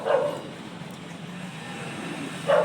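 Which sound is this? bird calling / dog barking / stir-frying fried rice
dog barking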